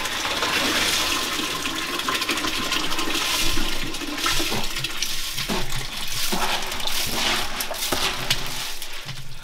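Water pours into a pot on a wood-burning stove as a steady, loud, continuous gush and splash that runs the whole time with slight surges.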